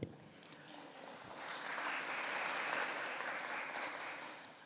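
An audience at a grantee convening breaks into applause, a broad steady wash of many hands that swells after the first second and holds fairly loud before easing slightly, with no talking over it.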